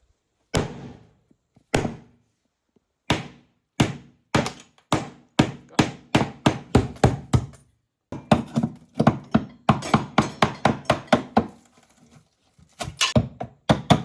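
Heavy blows smash into an old wall of plasterboard and breeze block, a run of loud, sharp thuds and cracks that starts as sparse single hits, then turns into rapid, irregular pounding with debris rattling between strikes.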